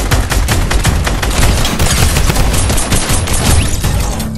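Sustained rapid-fire drum gun bursts in the video game Fortnite, loud and dense for the whole stretch with no pauses and no talking.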